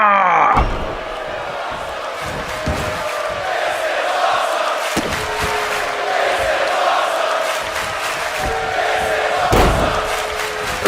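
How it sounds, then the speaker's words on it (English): A wrestling event crowd chants loudly in unison, a dense roar of many voices in a rhythmic pattern filling the arena, with occasional thuds and slams cutting through. "Crowd chanting, "This is awesome,""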